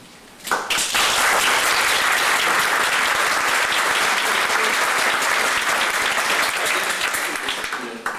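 An audience at a Northern Virginia candidates' forum breaks into loud, sustained applause. Dense clapping starts abruptly about half a second in and holds at full strength to the end, tapering only slightly.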